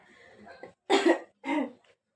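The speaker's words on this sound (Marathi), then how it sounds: "मला खोकला येऊ राहिला बोलताना" A woman with a cold coughs two harsh, close bursts in quick succession, preceded by a softer throaty sound.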